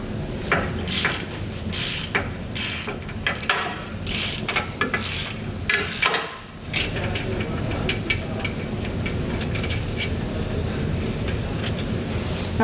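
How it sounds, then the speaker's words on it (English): Ratchet wrench with a 19mm socket loosening the front hitch bolts on a 2021 Ford F-450 Super Duty, a quick run of sharp pawl clicks in bursts with a short pause midway, close and fairly loud. "We're going to use a 19mm socket."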